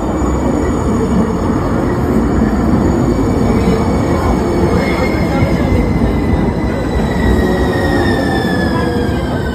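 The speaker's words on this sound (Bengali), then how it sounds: "এসে গেছে আমাদের ট্রেন।" A passenger train pulls into a station, its wagons rumbling loudly and steadily throughout while the wheels give out a drawn-out metallic squeal on the rails.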